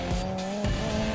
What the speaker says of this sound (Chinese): 然后是点刹，点刹一点效果都没有啊，直接撞墙